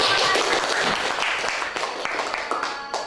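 A classroom of students clapping for a group, brisk applause that starts full and gradually thins out, with a little background chatter.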